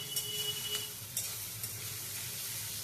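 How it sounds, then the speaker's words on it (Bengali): Carrot, onion and chili fry in a pan for an egg and semolina dish, a soft steady sizzle with a few light stirring clicks, fairly faint and without speech. "ভালো করে আমি ভেজে নেব।"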